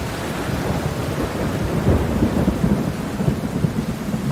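Heavy rain pours steadily while low thunder rolls and rumbles underneath, loud and close, with no voices.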